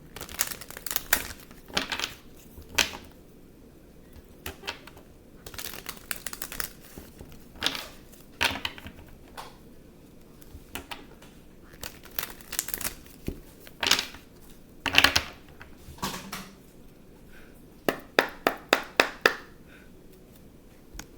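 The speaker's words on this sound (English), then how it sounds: "I'm going to shuffle again." Tarot cards being shuffled by hand, a run of crisp riffling and slapping bursts that comes and goes in clusters, close and fairly quiet, with no voice over it.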